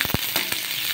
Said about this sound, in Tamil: இப்போது வெங்காயம் நல்லா வதங்கிடுச்சு